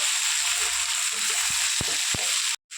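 Raw banana pieces and sliced onions frying in an oil-filled pan: a steady, close hissing sizzle with a few light clicks of the pan or spatula, cutting off abruptly near the end.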